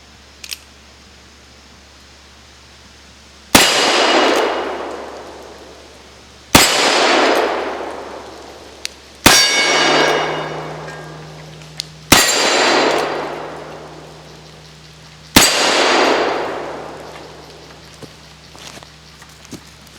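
An EMF Alchimista III single action revolver fires five spaced shots, each a sharp loud crack followed by a ringing clang of steel targets that decays over a couple of seconds, outdoors with no talking.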